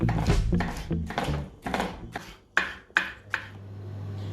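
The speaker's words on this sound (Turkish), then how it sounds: "Kapya biberlerimizi de aynı şekilde doğramaya devam ediyoruz" A knife chops red capia peppers into large pieces on a cutting board in a home kitchen, giving about eight irregular, fairly close strokes, with a low steady hum rising near the end.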